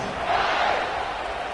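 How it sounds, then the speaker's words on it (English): A stadium crowd in a football video game sends out a steady, loud, broad murmur and roar with no distinct peaks, holding evenly the whole time. "this crowd is buzzing after that last score"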